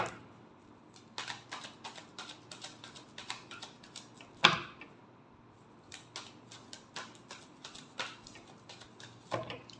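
Tarot cards riffle and snap in quick, sharp bursts during a final shuffle, close and crisp. Brief pauses fall between the flurries and one louder slap lands midway. No one speaks.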